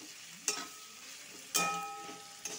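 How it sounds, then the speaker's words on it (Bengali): Spices with dry chilli powder frying in a pan for spiced pointed gourd, a quiet sizzle broken by three sharp stirring scrapes at even intervals, no one speaking. "এই মশলাগুলোর সাথে ভালো করে একটু ভেজে নিব।"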